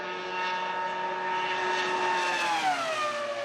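A Formula 1 car's engine holds a high, buzzing tone with strong harmonics, then the pitch drops slightly near the end, steady and moderately loud with no voices.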